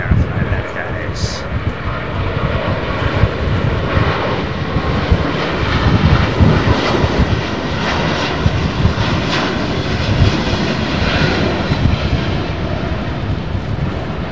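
Steady, loud roar of airliner engines at Heathrow Airport during the Doomsday plane's flight, a broad continuous rumble heard from inside the cabin with a constant low drone throughout.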